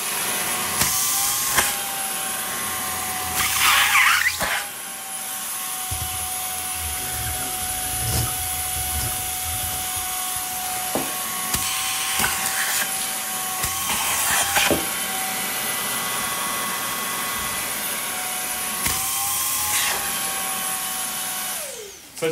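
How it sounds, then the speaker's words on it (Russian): A Samsung vacuum cleaner runs steadily and loudly up close, a continuous whining roar with a high tonal hum. Occasional bumps and shifts in pitch suggest it is being moved, and no one talks over it. "я вам включу пылесос."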